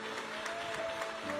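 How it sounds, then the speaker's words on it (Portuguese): Rhythmic clapping from a congregation, steady and fairly quiet, with faint voices mixed in. "As palmas mais forte para Jesus"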